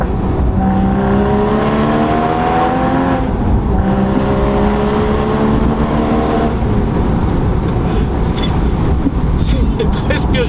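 A Porsche Boxster 981 Spyder's engine and exhaust rise in pitch through rising gear pulls, then settle into a rougher roar, loud and close, with wind noise and faint chatter near the end.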